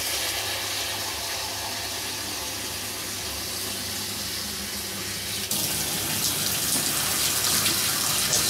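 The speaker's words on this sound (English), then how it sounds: "We'll put a bit more hot water again." Hot water gushes from a tap into a home brew vessel, a loud steady hiss and splash that brightens and grows slightly louder midway through as the vessel fills.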